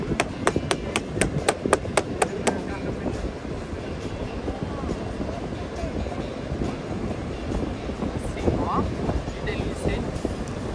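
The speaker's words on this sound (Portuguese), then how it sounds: "dar uma martelada aí só pra mostrar pra galera aí" A hammer cracks a crab's shell on a Bahia beach, giving a quick run of sharp taps early on, then fainter knocks under steady background noise and surf-like rumble.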